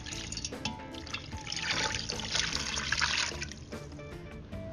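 Water pours steadily into an Instant Pot holding corned beef silverside, onions, brown sugar, bay leaves, garlic and white vinegar, a close splashing trickle that swells and fades, with no talk.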